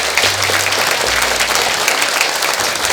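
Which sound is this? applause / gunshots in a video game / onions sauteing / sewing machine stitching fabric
applause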